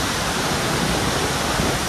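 Franklin Falls pours down up close, water splashing hard in a loud, steady roar that fills the whole moment; a voice may be faintly present beneath it.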